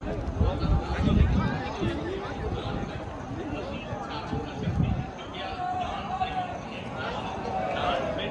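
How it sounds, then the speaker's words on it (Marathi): Dense crowd chatter fills the Mahakal temple in Ujjain on a busy Sunday, a continuous murmur of many voices, close and steady, with nearby talk rising above it. "तर आज संडे असल्यामुळं खूप गर्दी आहे"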